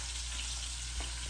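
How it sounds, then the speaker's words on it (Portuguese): Pasta, sausage and onion fry together in a pan, giving a dense, steady close-up sizzle with a faint stirring scrape near the end. "Ela tá fazendo macarrão, salsicha e cebola."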